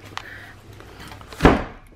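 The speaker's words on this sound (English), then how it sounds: "oh Bear, you slammed the door" A door slams shut at home, a single dull thud about midway through, fairly faint and alone against a quiet room.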